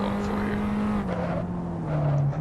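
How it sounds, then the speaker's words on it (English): Abarth 500 Esseesse in Assetto Corsa, engine note held steady then dropping slightly as the driver heel-toe downshifts with full clutch, a continuous close-up drone with a small rev change near the midpoint. "we're going to go with the full clutch and downshift and heel toe here"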